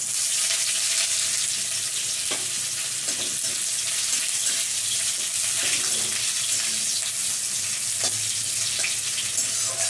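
Chopped onion fries in a pan for a pumpkin and potato curry, giving a loud, steady sizzle that fills the whole stretch. A few faint clinks and stirring scrapes sit under the hiss.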